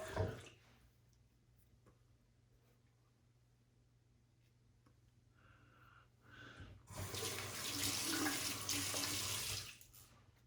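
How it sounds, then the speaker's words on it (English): A tap runs while hands are washed under it, starting with quiet handling noises, a few light knocks, then a louder steady gush of running water that spatters for a few seconds before easing off. "all I'm doing with the tap is washing my hands"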